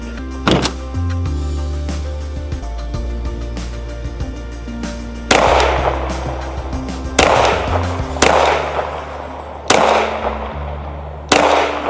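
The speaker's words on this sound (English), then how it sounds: "That's our best shooting of the night with the 9mm" 9mm pistol fired at targets outdoors at night: after some quieter clicks and handling noise, five loud, sharp shots ring out roughly every one to two seconds, each trailing into a brief echo.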